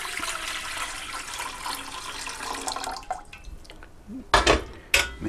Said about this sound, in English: I'll put some water in there.